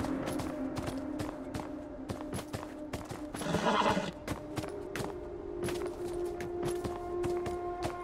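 In the video game Beyond: Two Souls, a horse whinnies loudly midway while a steady clatter of hooves keeps trotting throughout, with faint background hum.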